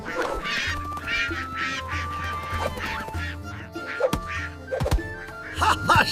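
Duck quacks come in short nasal bursts over a steady background hum, with a few sharp knocks and bangs scattered among them.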